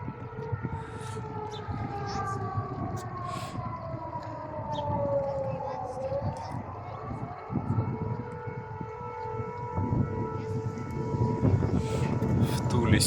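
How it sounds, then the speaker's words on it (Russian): Civil defense sirens wail across the city of Tula, long sliding tones that dip and rise again, heard from a distance over street noise and rumbling traffic. "В Туле сирены народ запугивают, наверное."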